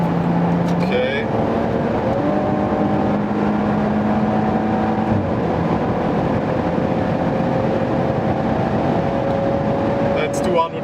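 A 2015 Maserati Quattroporte cruising at about 230 km/h on the highway, with a loud, steady roar of wind and road noise and a droning engine tone that climbs slightly as the car accelerates.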